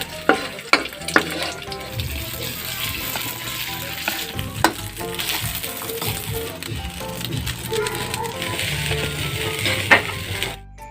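Rice sizzles steadily in a hot pan while a utensil scrapes and stirs it, with occasional sharp knocks against the pan over a continuous close frying hiss.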